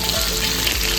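Katla fish frying in hot oil in a village kitchen, a dense, steady sizzle heard up close and loud, with no pauses across the short stretch.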